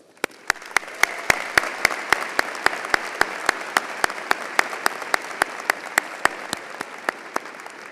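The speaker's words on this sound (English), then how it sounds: "Please join me in congratulating them with a round of applause." Sustained applause from a commencement crowd at a college of engineering ceremony rises and holds steady, with one nearby pair of hands clapping sharply and evenly in a regular beat over the broader wash.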